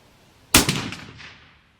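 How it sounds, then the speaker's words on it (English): .308 rifle fired at a long-range target 830 yards out: a single loud, sharp report followed by a rolling echo that decays over about a second outdoors. "Shoot again."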